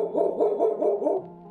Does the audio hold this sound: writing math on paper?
no